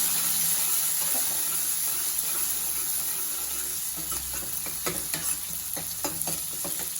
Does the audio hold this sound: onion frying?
yes